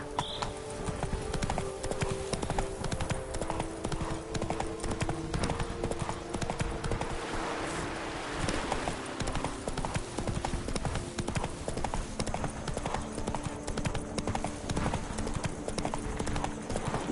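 Roach, the horse in the video game Witcher 3, trots along in a steady, continuous clip-clop of hooves, close and fairly loud throughout, with no talking.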